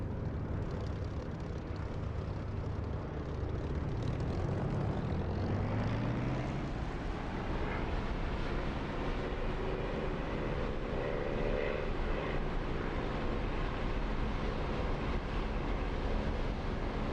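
Aircraft engine drone inside a flight simulator game, DCS or War Thunder, a steady broad hum with slow shifting tones rising and falling, continuous and fairly quiet throughout.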